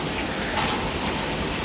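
Hail pelts down steadily in a July hailstorm, a dense, continuous hiss and patter of ice striking surfaces close by, loud and unbroken throughout.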